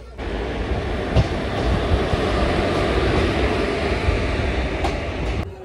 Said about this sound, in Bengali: আমাদের ট্রেন ছেড়ে দিয়েছে, আর এর পরের স্টপেজ বোলপুর শান্তিনিকেতন